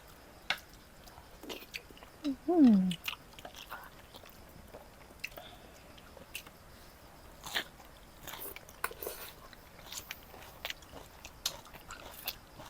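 Crisp bites and chewing of crunchy sweet Korean food eaten by hand, scattered close crunches with one louder bite early, mostly quiet between, faint voices.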